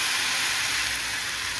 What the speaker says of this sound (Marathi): त्यानंतर पाणी टाकून घेऊया वरून।